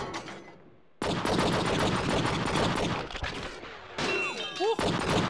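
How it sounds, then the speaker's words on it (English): Sustained loud gunfire in the video game True Crime: Streets of LA, dense rapid shooting almost throughout after a brief quieter start, with short gaps and impact sounds, close and continuous. "Who the hell do you think you're shooting at?"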